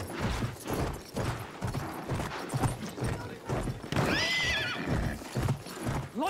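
Galloping hooves pound steadily in Battlefield 1 as a horse lets out a loud, rising whinny midway, all game sound with no talking.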